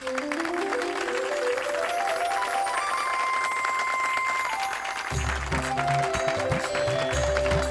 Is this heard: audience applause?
yes